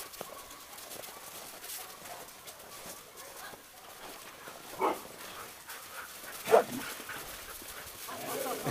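Dogs outdoors making a couple of brief, faint sounds over a quiet background.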